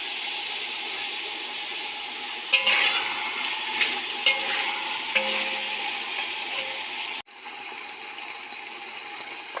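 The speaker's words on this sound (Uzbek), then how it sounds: "Ana piyozimizni ham qovuryapmiz endi." Onions and meat frying together in a copper pot for Uzbek dimlama, giving a continuous sizzle with occasional stirring clinks, then a brief break before the frying sound returns.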